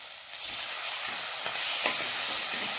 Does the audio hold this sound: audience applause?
no